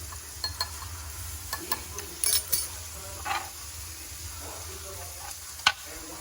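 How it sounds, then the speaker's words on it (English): A whisk stirs taco seasoning into a meat mixture for taco meatballs, giving soft scraping and a few light clinks against the bowl over a steady low background hum. "Get your whisk and stir that in."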